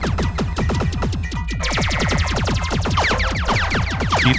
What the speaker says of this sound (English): the Space Invaders sound effects here